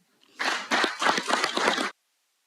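Brief round of applause at a Derbyshire Dales full council meeting, a small group of hands clapping loudly and close for about a second and a half, then stopping abruptly into silence.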